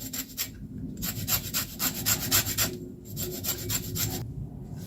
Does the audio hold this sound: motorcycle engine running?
no